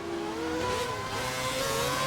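A Formula 1 race car engine from a racing video game set at the 2011 Indian Grand Prix roars loudly and steadily, its pitch rising and shifting while racing close to a Ferrari.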